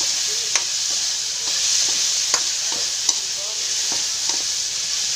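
Pakbet vegetables frying in a pan with a constant bright sizzle, punctuated by a few light scrapes and taps of a spatula as they are stirred, close and steady with no talking.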